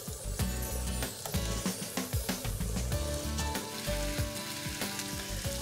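Potatoes sizzle in olive oil in a pan, a steady bright frying hiss with crackles and occasional clinks or stirring taps, close and continuous with no talking.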